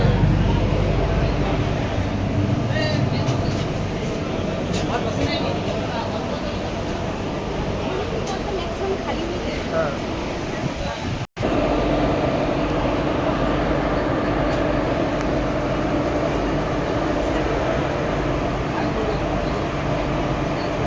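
Steady rumble and rattle inside a moving train bound for Siliguri, heard throughout with a brief dropout midway, with faint background voices.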